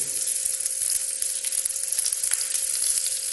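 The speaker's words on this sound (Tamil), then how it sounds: "ஒரு 5-6 ஸ்லைஸ் லைட்டாக ஒரு 5-6 வெங்காயத்தை போட்டு" A few onion slices sizzling in hot oil, a bright steady hiss close up with a faint hum underneath.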